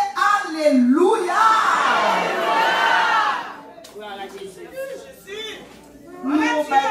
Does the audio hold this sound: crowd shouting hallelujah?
yes